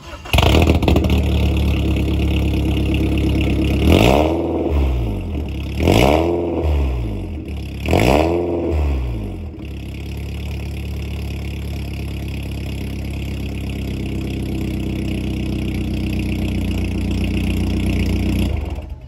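A 2001 BMW E46 318i with the M43 engine and an electrically opened valved exhaust revs three times in quick bursts, loud and close, then settles back to a rough, steady idle.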